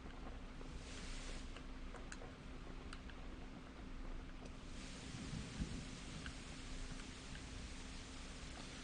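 Steady rain hisses in the video game Kingdom Come: Deliverance while thunder rumbles faintly, with a deeper roll swelling midway through.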